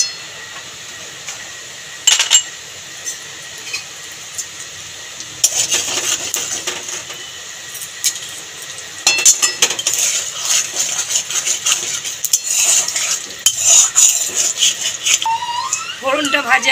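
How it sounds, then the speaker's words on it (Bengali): Whole cumin, cloves, cardamom and cinnamon go into hot oil for a soybean curry: a few sharp clinks from a utensil, then loud bursts of sizzling and crackling that flare and settle repeatedly, with occasional scraping. "গরম তেলের মধ্যে ফোড়ন দিয়ে দেবো গোটা জিরে আর লং,"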